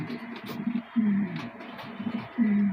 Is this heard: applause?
no